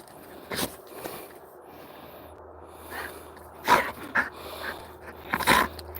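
An excited dog eager to play gives a scattering of short, sharp barks and whimpers among snuffles, moderately close with quiet gaps between, and no one talking.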